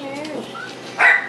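A puppy at a pet store gives a short, loud bark-like yelp near the end, after softer dog whimpers amid ongoing chatter and store background noise.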